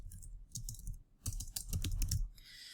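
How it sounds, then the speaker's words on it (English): A name being typed on a computer keyboard, a quick run of close, clattering keystrokes after a brief pause, rising into a dense burst before trailing off, over a steady low hum. "So I'm going to type in my name."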